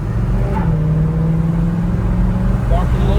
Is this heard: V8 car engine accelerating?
yes